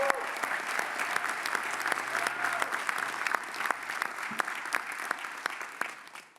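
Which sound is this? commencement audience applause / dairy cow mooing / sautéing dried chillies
commencement audience applause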